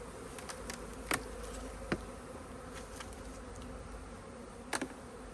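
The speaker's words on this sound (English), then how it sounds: "Lots of bees at the top, so I'm just going to smoke them off the" Dense, steady hum of many honey bees massed at the top of a hive during an inspection, a continuous close drone with a few brief louder buzzes as individual bees pass near.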